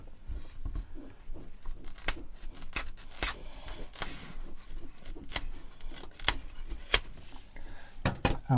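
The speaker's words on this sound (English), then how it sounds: "A pair of kitchen scissors," Kitchen scissors snip through foam in a string of crisp, close cuts at an uneven rhythm, each a short sharp click with rustling between.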